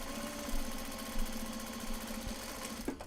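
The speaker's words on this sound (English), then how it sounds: "we're going to do the turning seam on the bottom" Sewing machine stitching a turning seam on a kimono bag, a fast steady mechanical whirr of rapid needle strokes, close and continuous with a short stop near the end.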